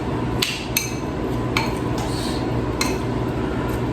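Chicken feet marinade with salt, sugar and vinegar stirred in a bowl, with a spoon clinking against the bowl in quick separate knocks over a steady background hum, close and fairly loud.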